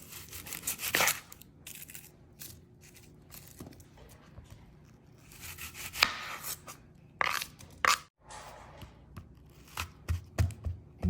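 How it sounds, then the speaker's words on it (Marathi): A knife chops through a large onion on a cutting board, giving a run of sharp, close chopping strokes in uneven bursts with short pauses between them, and no talking. "चला आपण कांदा कापून घेऊया हा सुद्धा खूप मोठा आहे"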